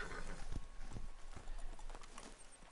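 Horse hooves clip-clop in Red Dead Redemption 2 on PS4, a steady run of close, crisp thuds at a walking rhythm over faint background ambience.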